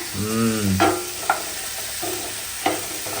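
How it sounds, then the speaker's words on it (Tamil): Cut mushrooms hit a pan of sautéed onions and fry with a steady sizzle, while a spoon stirs and scrapes a few times with distinct knocks against the pan. "இப்போ இது கூட வந்து பாத்தீங்கன்னா நம்ம கட் பண்ணி வச்சிருக்க மஷ்ரூம் சேர்த்துடலாம்"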